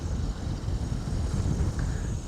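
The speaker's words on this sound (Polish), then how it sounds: "I to ten wiatr strasznie przeszkadza." Steady, rumbling wind buffets the microphone, a low, loud roar with no voices present.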